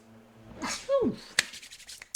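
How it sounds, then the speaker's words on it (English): A single close sneeze with a sharp rising and falling burst, followed by a few faint clicks and rustles. "I was about to sneeze. Oh, there it goes."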